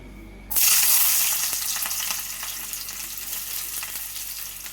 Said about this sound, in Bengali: এবার দিয়ে দিচ্ছি একটু সরষের তেল